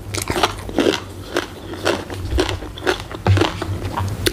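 Close, wet crunching and chewing while eating bok choy alongside spicy Thai papaya salad, bites recurring every half second or so with faint sounds of a voice at times.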